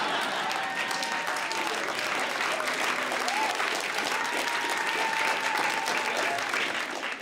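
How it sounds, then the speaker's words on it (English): Studio audience applauding a stand-up comedian during a comedy special, steady sustained clapping filling the room at close range with no pauses. "Thank you for clapping for me"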